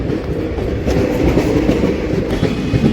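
The 16094 Gomti Sagar Express runs past Nagpur with a loud, steady rumble of rolling stock and faint clickety-clack from the wheels, close and continuous throughout.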